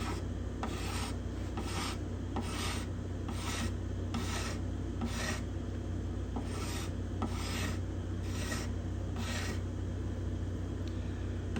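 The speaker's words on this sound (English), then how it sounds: "I'm not scraping hard because there's going to be sanding after this." Steady rhythmic rasping strokes as a scraper works along the top binding of a spruce-topped guitar, about a dozen even passes over a constant low rumbling hum.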